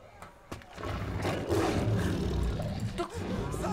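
A cave lion in the Far Cry Primal video game lets out a long, heavy, rumbling roar that swells and holds for several seconds, loud and close, preceded by a couple of sharp knocks.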